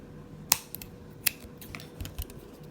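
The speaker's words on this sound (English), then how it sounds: "We can cut the yarn" Scissors snipping through yarn at close range, two crisp cuts about a second apart followed by faint handling rustles, with no one speaking.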